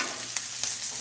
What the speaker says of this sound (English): Let me stir the sprouts here.